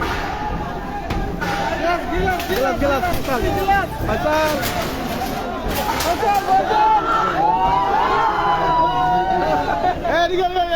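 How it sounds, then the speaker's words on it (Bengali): A crowd outside Amir Hossain Amu's residence in Barishal shouts and cheers in a loud, continuous babble of many voices, with occasional bangs and thumps in the mix. "মুরগিটি নিয়ে তারা উল্লাস করছেন"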